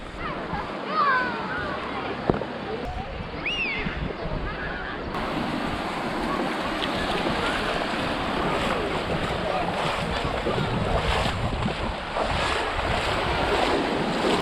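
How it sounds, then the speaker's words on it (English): Steady wash of wind and sea surf with a continuous low engine rumble of boats passing on the sea off the UK coast; no clear speech. "it looks like there's a lot of boat activity around here"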